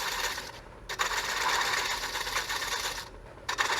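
A detail gouge on a wood lathe takes very light cuts on a bowl's tenon, producing a continuous close hissing whir that stops briefly twice.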